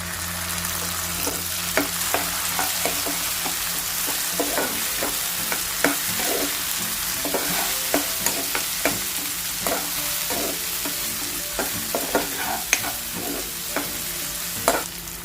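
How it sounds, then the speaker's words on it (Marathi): Onion and tomato sauté in a pan for an okra bhaji masala, with a steady close sizzle and frequent sharp scrapes and clacks of a spoon stirring through it. No one speaks. "थोडासा ब्राऊन होईपर्यंत परतवून घेतो कांदा चांगला नरम झाला आहे"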